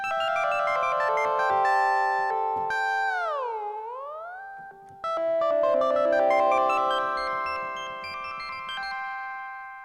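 LordOfTheSprings synthesizer playing bright layered chordal notes with a very fast relax rate, tones gliding down and back up in a swooping bend, then continuing as sustained shimmering chords, clear and alone.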